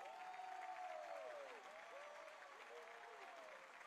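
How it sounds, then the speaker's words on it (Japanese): A crowd claps steadily at a soft, even level, with a few gliding electronic tones sounding over the applause, in the anime Cardfight!! Vanguard. "皆さん盛大な拍手を"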